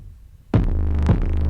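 Layered kick drum stacked with multiple 808 bass layers, a hard hit landing after a half-second of near silence, then a sustained booming low tone with a second punch about half a second later, loud and close.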